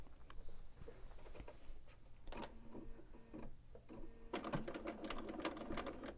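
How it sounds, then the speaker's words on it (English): A sewing machine runs in short bursts while stitching a Dresden blade appliqué onto background fabric, quiet rapid needle patter with pauses between the runs. "Let me take you to my sewing machine."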